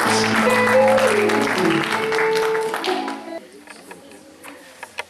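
A Baptist church congregation applauds during a service, a dense clatter of clapping mixed with singing voices that fades after a few seconds into scattered single claps.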